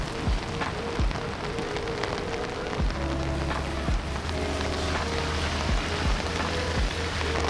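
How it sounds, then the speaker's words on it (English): Heavy rain pours steadily in Kuala Lumpur, a dense continuous hiss on hard surfaces with a low rumble underneath and occasional louder splashes, close and loud throughout with no talking. "Unfortunately, it's gotten very rainy here"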